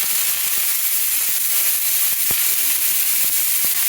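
Frozen spinach sizzling in hot oil left over from frying eggs, a loud steady hiss with scattered pops and crackles throughout, close by and alone.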